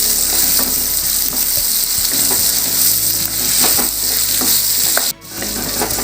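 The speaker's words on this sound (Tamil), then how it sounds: "சின்ன வெங்காயம் ஒரு 10 சின்ன வெங்காயம் போட்டுட்டு இதையும் போட்டு நம்ம நல்லா இதை வதக்கி எடுத்து வச்சுக்கலாம்" Tomatoes and small shallots sauté in a hot pan for a hotel-style salna, a steady close sizzle and crackle with occasional stirring scrapes throughout, no voices.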